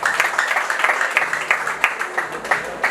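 A crowd applauding at an event in Rwanda, dense close clapping with rhythmic bursts, moderately loud and continuous throughout.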